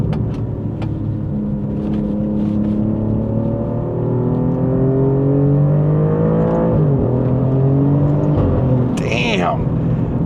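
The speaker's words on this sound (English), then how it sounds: "when the boost kicks in third gear, it's like a totally different animal" Alfa Romeo Giulia Quadrifoglio pulling hard in third gear as the turbo boost builds, engine note climbing steadily and loud from inside the cabin, with a brief break and a sharp hiss near the end.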